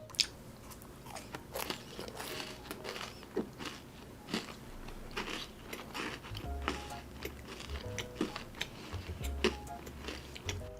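A handmade macaron is bitten and chewed close to the mic, with repeated soft crunches and crisp clicking bites spread through a quiet stretch and no talking.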